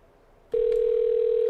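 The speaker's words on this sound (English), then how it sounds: "We hear you ringing this time." Outgoing telephone call ringing over a line, a single steady electronic tone starting abruptly after a quiet noisy hiss and holding constant, fairly loud and alone.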